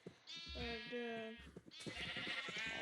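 Sheep on a video game farm bleat in two drawn-out, wavering calls, close and clear, with a person talking between and after them.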